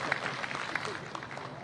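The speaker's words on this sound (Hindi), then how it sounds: "जोरदार तालियां प्लीज को भी हैं।" An audience at an award ceremony claps steadily for about two seconds, a dense patter of many hands with no pauses.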